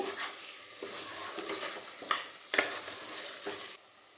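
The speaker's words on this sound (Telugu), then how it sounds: "వేసుకొని కొద్దిసేపు ఇలా కలుపుకుంటూ 2-3 నిమిషాలు వేయించుకోవాలండి." Masala with mint and coriander leaves fries in a pot for chicken biryani, a soft continuous sizzle broken by a few scraping stirs and light spoon taps, fairly quiet and close, no talking.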